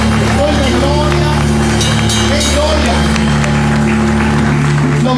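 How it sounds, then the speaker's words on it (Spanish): Congregation applauding during a Sunday church service, a dense steady wash of clapping mixed with music and crowd noise, loud throughout. "Ahora dale el aplauso al Señor."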